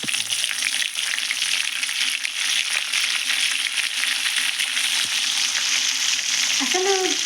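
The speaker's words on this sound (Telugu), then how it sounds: "కొద్దిగా కరివేపాకు వేస్తున్నానండి." Curry leaves dropped into hot oil for a tempering, a loud continuous crackling sizzle close by that holds steady throughout, with a faint voice-like sound near the end.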